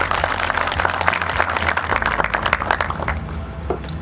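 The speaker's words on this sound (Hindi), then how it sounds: "मैं चाहता हूं कि एक बार ताली बजाकर आप सभी का बहुत अच्छी तरह से वार्म वेलकम हो।" An audience at a farmers' fair applauds to welcome guests, a steady dense wash of clapping sustained throughout and tapering slightly at the end, with no speech.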